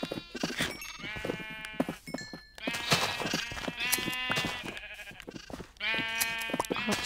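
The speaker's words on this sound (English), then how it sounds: "So many pink sheep now." Pink sheep in a video game, bleating repeatedly in overlapping, wavering calls, loud and close, with several animals layered into a dense chorus.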